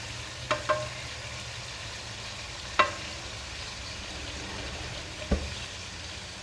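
Masala spice paste hits hot oil left from frying chicken for a chicken karahi, giving a steady broad sizzle with a few sharp clinks from a spoon against the pan, no voices over it.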